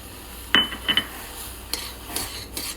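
A pot of boiling tea with a tea bag is stirred: a few light metallic clinks and scrapes of a spoon against the pot, close and fairly quiet over a soft background hum.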